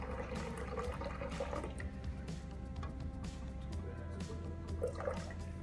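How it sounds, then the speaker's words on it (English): A water sample is poured into a graduated settling cone in a lab, giving a continuous close splashing trickle that stays fairly even throughout. "You're just gonna pour into our cone up to when you reach 500 milliliters, which are marked in our cone."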